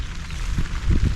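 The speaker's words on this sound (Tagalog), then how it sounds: "Sana tumila na yung ulan." Rain falls on a farm, a dense, constant patter with heavier drops thumping nearby on a surface, short and fairly loud with no talking.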